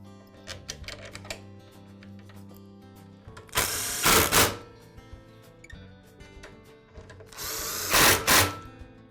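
Power driver running screws into the motor housing of a DeWALT miter saw during a brush ring repair, two loud whirring bursts of a few seconds each, close by, separated by lighter handling clicks.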